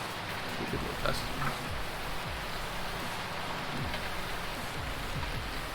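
Steady rain hisses in Farming Simulator 19, a continuous even wash of noise with faint low tractor rumble beneath it.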